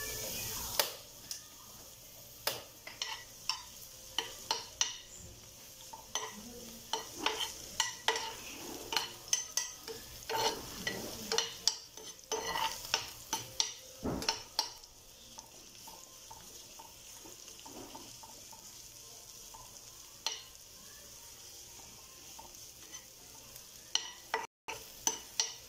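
White adobo with garlic cooks in a pan, with a soft, steady sizzle under repeated clattering scrapes of stirring throughout, close and moderately loud.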